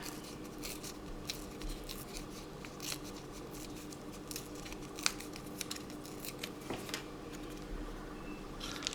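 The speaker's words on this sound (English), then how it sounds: "Now I'll get the bigger bits of my wallpaper and I'll just give them a rip and see" Wallpaper pieces torn by hand for a collage page, giving repeated short ripping and crinkling bursts at close range against a low background hum, with no talking.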